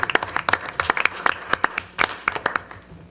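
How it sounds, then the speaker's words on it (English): Scattered clapping from a small group at a city council meeting, with distinct individual hand claps in loose bursts, fairly close and moderately loud, briefly dying down midway before picking up again. "Yeah, yeah, actually, that does deserve applause."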